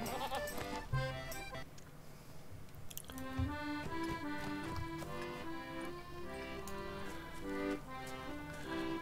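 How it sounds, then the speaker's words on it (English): A goat mount in the online game Lord of the Rings Online bleats amid game sounds, a nasal, wavering cry layered over steady ticking and background music. "I'm gonna ride out of here in style on a goat."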